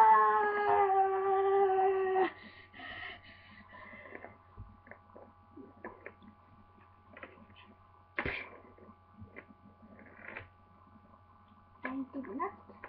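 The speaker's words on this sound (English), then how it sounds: "Why is there always a screaming dog?" A dog lets out a long, wavering howl up front, then quieter scattered yelps and background noises follow.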